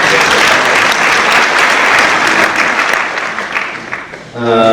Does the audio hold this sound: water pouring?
no